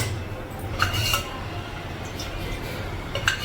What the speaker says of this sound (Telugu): స్టవ్ వెలిగించి పెనం పెట్టుకోవాలి.